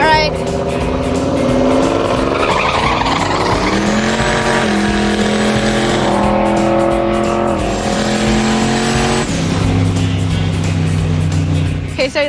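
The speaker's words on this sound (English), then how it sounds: "We got to work on his rolling burnouts" A hot rod car roars through a rolling burnout, engine revving high and climbing with tire squeal, loud and close, then dropping pitch as it lets off.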